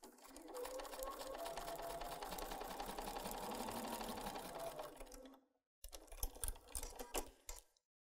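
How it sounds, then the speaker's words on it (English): Domestic sewing machine stitching a quilt-as-you-go tote bag, a steady rapid mechanical whir running for about five seconds, then a brief pause and a shorter choppy burst of stitching, close and clear. "we're going to sew that"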